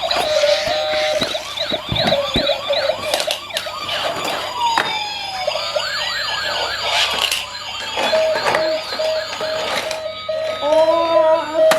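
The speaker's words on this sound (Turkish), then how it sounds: "Ambulansla jandarma geldi arkadaşlar bakar mısınız?" An ambulance siren wails continuously with rising and falling tones, loud and fairly close, amid busy background noise and some faint talk.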